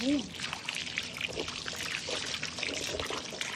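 Warm water poured from a container while bathing a dog, splashing close by in an ongoing stream, with a voice faintly heard at the start.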